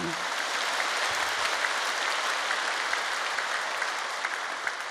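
In a large church in Yeouido, a big congregation breaks into steady, sustained applause of welcome during a Sunday sermon, an even wash of clapping heard throughout, with no speech over it.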